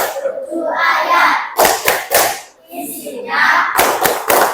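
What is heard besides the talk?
rhythmic clapping chant for Surah Al-Ma'un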